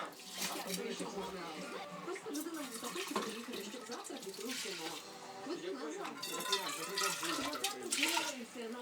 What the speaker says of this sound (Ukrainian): Водичкою сполоснемо, щоб нас не залишалося там рису.